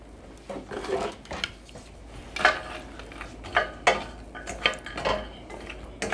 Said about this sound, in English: we got these nuts roasting dry on the stove right now